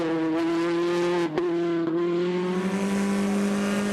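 A rally car at full speed through a stage of the Acropolis Rally, its engine a loud, sustained harmonic roar with brief dips at gear changes, close and continuous without voices.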